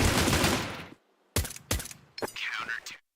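Pistol gunfire from a Counter-Strike 2 match: a dense burst of shooting up front, then a pause and several separate sharp shots spaced out through the rest of the clip.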